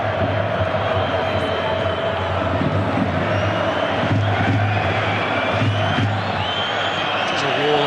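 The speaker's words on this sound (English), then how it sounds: "There's a wall of noise inside the Bernabeu. Yeah, the drums are beating." At the Bernabeu during a Barcelona versus Real Madrid Copa del Rey match, a huge stadium crowd keeps up a constant wall of noise with chanting and drumming beneath it, and a commentator's voice is partly audible over the top.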